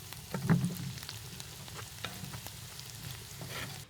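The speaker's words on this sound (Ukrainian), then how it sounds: "Видно, як вона пулькає під час помішування" Thick milk sauce bubbles and sizzles softly in a pan, with scraping stirring sounds and small pops throughout.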